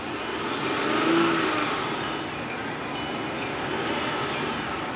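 A 2004 Hyundai Sonata's V6 engine turns over and settles into a steady, even idle, with a broad low rumble and a faint periodic ticking running throughout.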